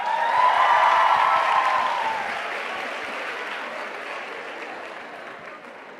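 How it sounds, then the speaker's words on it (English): Audience applause at a festival talk, a full round of many hands clapping that peaks early and then slowly fades while a high tone sounds at the start. "Can we give him a round of applause?"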